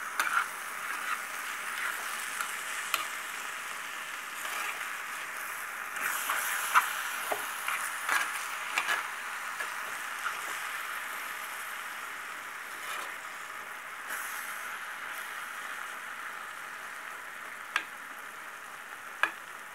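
Kovakka manga thoran being mixed in a pan with curry leaves and coconut oil, a soft low sizzle with scattered light stirring clicks and taps, fairly faint and unhurried.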